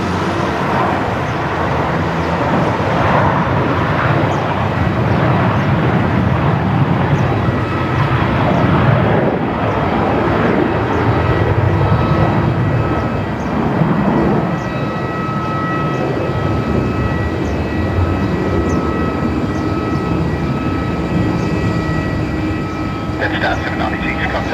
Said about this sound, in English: Jetstar 796 just about to blast past here